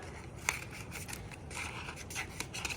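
Scissors snipping through fabric to cut out the top of a plush carrot for a sewing project, a few soft close cuts and rustles, with one sharper snip early on, no talking.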